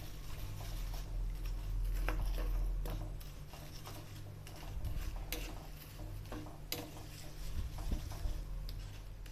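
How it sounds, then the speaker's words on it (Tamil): Jaggery dissolving in a little water in a pan while being stirred for mung dal payasam gives faint, irregular scraping and soft tapping of the spoon against the pan over a low background hum, with no talking. "இப்போது வெல்லத்தை நல்லா கரைச்சிக்கலாம்."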